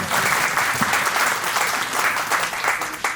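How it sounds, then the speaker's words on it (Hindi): Audience applause at a school Mother's Day celebration right after a song for mothers, a steady dense wash of many hands clapping at moderate volume, continuous throughout with no talk over it. "तालियों में जोश नहीं था"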